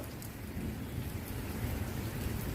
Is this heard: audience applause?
no